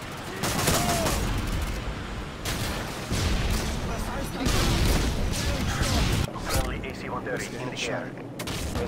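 Gunfire and explosions in a shooter video game, with dense rapid bursts of shots and booming blasts continuing loudly throughout while players talk over the action.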